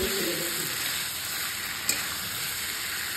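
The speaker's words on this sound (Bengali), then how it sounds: "এইবার আমাদের সিদ্ধ করা কচু এর মধ্যে দিয়ে দেব, ভালো করে নাড়াই চাড়াই নিয়ে ভাজা ভাজা করে নেব" Boiled taro sizzles and fries in a pan with tomato as it is stirred, a steady loud hiss throughout with a single sharp clink of the utensil partway through.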